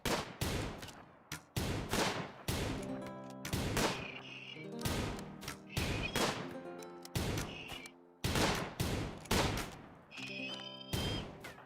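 Rapid bursts of gunfire in the colony-survival video game RimWorld, loud repeated volleys of synthetic shots with short pauses between, under occasional faint background tones.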